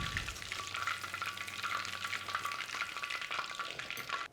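Battered chicken balls deep frying in oil give a dense, continuous crackling sizzle, loud and close throughout with no voices.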